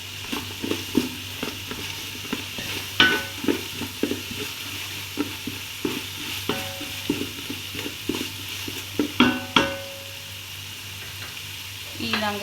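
Curry leaves and pandan leaves sizzle in hot oil in a pan for chicken kottu, with a steady hiss under repeated sharp scrapes and clacks of a spatula stirring, close and moderately loud.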